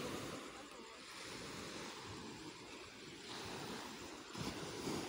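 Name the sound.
ocean waves on a beach at night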